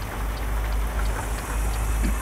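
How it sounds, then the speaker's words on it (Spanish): Heavy rain pours steadily with a dense, unbroken hiss and low rumble during a rainy stop on a mountain road in Colombia, with no voices over it. "La lluvia está que espanta."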